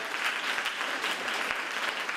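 Steady audience applause fills the room at a Mandarin-language speech contest, welcoming a test speaker back to the stage, with dense continuous clapping and no voices.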